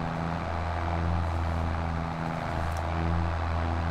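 Fiatagri G240 tractor engine heard from the cab while ploughing in Farming Simulator 22, a steady loud low drone with a constant rumbling hum that holds unchanged throughout, with no talk.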